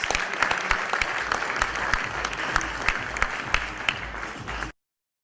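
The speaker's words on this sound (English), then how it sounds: "Ladies and gentlemen, a loud round of applause." Loud, continuous applause from an audience at an awards ceremony, dense clapping with sharper individual claps standing out, cutting off abruptly near the end.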